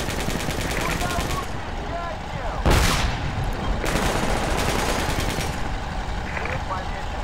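Gunfire from an enemy APC in the Project Reality military shooter game, a loud, dense stream of automatic fire with a sharp burst near the middle, over continuous battle noise and intermittent voices.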